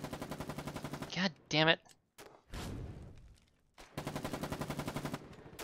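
Gunfire in the war game Foxhole, rapid rhythmic bursts of automatic fire at the start and again near the end, broken by a cursing voice and a brief heavy thump in between.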